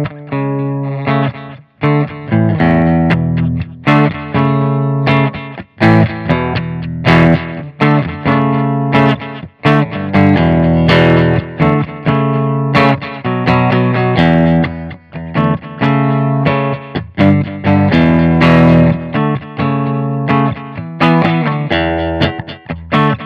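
Clean electric guitar, a PRS McCarty 594 S2, plays a steady run of plucked notes and chords through a delay effect, each trailed by soft echoing repeats, loud and close with no voices.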